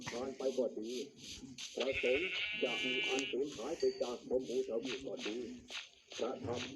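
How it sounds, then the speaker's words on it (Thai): Several sheep bleat close by, wavering calls repeating in quick succession while people talk over them. "เราเจอแกะอีกว่ะ เออเราเจอแกะอีก"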